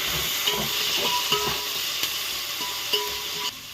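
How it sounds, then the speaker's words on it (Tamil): Coriander and green chilies sautéing in hot oil in a home kitchen, a dense continuous sizzle and hiss with occasional faint clicks of stirring, no speech. "கொத்தமல்லி பச்சை மிளகாலாம் சேர்த்துடலாம். சேர்த்து நல்லா வதக்கணும்."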